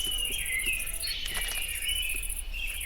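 Bright, high bird chirping calls from a Minecraft game repeat over a steady ambient hum, with a constant insect-like buzz running high above throughout.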